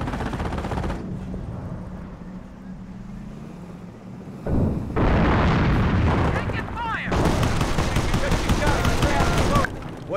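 Battle sounds from the Company of Heroes video game: dense bursts of gunfire and heavy artillery booms, loud and near, in shifting waves with voices speaking between the blasts.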